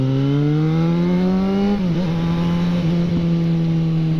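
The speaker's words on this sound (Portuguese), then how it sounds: "o ronco da moto ele fica meio alto, mas ele fica mais abafado" A Yamaha XJ6 motorcycle with a straight exhaust pipe revs steadily, its loud, deep throaty exhaust note rising in pitch, then dropping and wavering before holding a steady roar.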